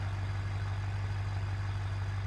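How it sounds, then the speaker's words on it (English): A steady, loud, low engine rumble from an off-road truck in a racing video game, droning without change as it idles or cruises, with no other sounds over it. "This truck sounds louder."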